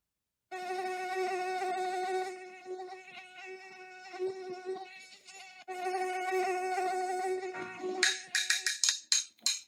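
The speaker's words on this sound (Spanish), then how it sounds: "Un ejemplo de un sonido largo puede ser el sonido que transmite un zancudo." A mosquito buzzes loudly and close in a long, whining drone that wavers in pitch and volume, then breaks into a series of short, choppy buzzes at the end.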